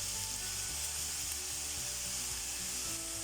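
Carrots cook in a pan with salt, giving a steady, close hiss of sizzling along with light scraping and rubbing as they are stirred, and no talking.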